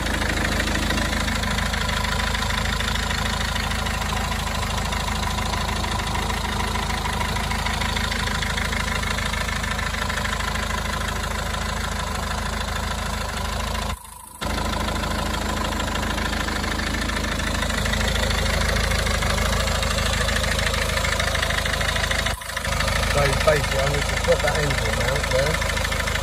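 A Citroen Berlingo van's engine idles with a loud, continuous rattle that holds steady throughout, apart from one brief dip in level.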